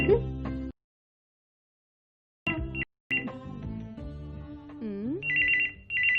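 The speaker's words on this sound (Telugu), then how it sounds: "ఇందాక నుంచి ఫోన్ రింగింగ్ అవుతుంటే ఎత్తదే" A phone's melodic ringtone plays in a Telugu comedy episode, a short tone-like musical burst, then silence, then the ringtone resuming with rising and sliding notes, moderately loud and close.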